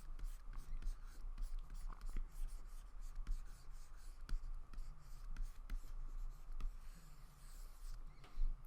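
Pencil or pen drawing a center line on paper for a head-and-skull sketch, a soft continuous scratchy rubbing with short strokes, close and quiet, with light breathy background noise and no talk.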